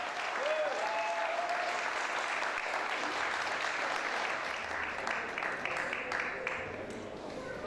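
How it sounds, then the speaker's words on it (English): Sustained crowd applause at a Liberian Independence Day gathering in the United Kingdom as the foreign minister walks to the podium, a steady wash of clapping with faint whistles and voices, easing off near the end. "give him the loudest applause ever as he comes to the podium"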